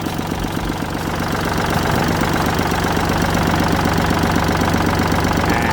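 A Kubota L3608 tractor's diesel engine idles close by, a loud, steady chugging rumble with a fast, even knock that stays unchanged throughout.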